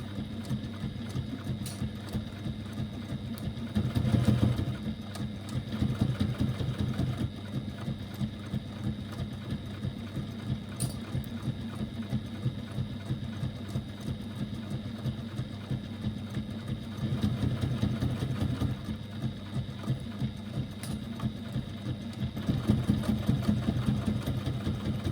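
A sewing machine stitches a strap onto a bag, a steady, fast mechanical whirr with brief surges and slowdowns, running continuously and fairly faint with no talking.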